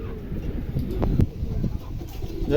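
A pair of Mondi pigeons with eight-feather tails coo at a market stall, soft low murmuring calls repeating close by over a busy background hum.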